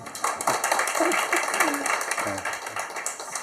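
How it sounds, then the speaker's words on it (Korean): Audience applause at a health education center talk, moderately loud clapping throughout with voices and cheers mixed in. "박수 한번 주십시오"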